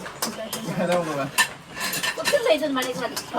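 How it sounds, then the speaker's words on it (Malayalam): A bottle taps and clinks against a plate, sending a rapid run of light knocks and scrapes along with the clatter of dishes, and a voice murmurs faintly underneath. "കുപ്പി പ്ലേറ്റിനകത്ത് തട്ടുന്നത്"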